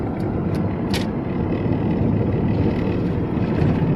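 A 1999 Ford Ranger with a 3.0L engine and a K&N cold air intake growls steadily and loudly at about 3,000 RPM, with a deep, continuous rumble and a few brief clicks early on.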